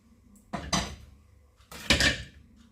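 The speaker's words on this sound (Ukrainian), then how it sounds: "Беремо мисочку і висипаємо картоплю." Potatoes tumble into a bowl in two clattering pours, each a short burst of knocking and rattling a second or so apart, close by and with no voices.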